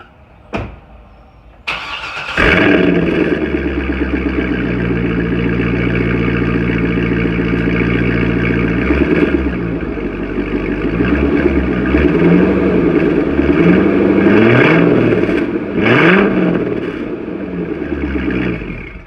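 A C6 Corvette fitted with a Corsa sport exhaust cranks and fires up after a few clicks, then settles into a loud, deep rumbling idle broken by several throttle blips and revs, close by with no talking.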